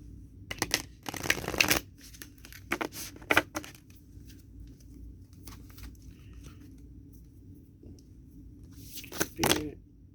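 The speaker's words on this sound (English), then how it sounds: "I'm just shuffling one time on camera for you guys." Tarot cards being shuffled by hand in several short bursts of riffling and patting, fairly close and moderately loud, separated by quieter gaps with faint room noise.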